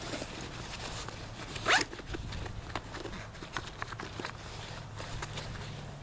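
A quick, sharp zip from a small zippered compartment on a Camelbak Squadbak water pack, heard up close. Soft handling rustles and bumps come before and after it, with no speech.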